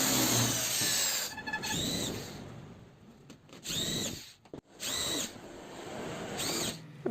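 A power drill fitted with a 332 bit drives screws into a sliding window frame, its whirring motor rising and falling in several separate bursts, close and loud, with short pauses between.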